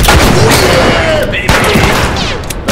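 Loud close gunfire in The Last of Us Remastered on PS4, a dense burst of shots and booming blasts with echoing reports, tightly layered across a short stretch of game combat.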